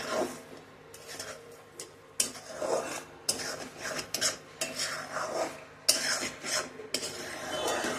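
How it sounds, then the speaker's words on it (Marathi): A spoon scrapes and clinks against a metal wok while sugar is stirred into vermicelli kheer, making irregular close scraping strokes in uneven bursts with no talk. "तर ही साखर आपल्याला याच्यातच व्यवस्थित मिक्स करून घ्यायची आहे."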